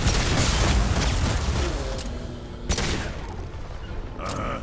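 Gunfire crackles in Mass Effect 2: dense bursts of shots and sharp booms up close, then a distinct single crack and a fading metallic tail.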